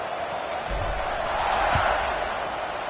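A stadium crowd at a college football game against Kentucky keeps up a steady, dense roar after a score, swelling slightly in the middle and holding throughout.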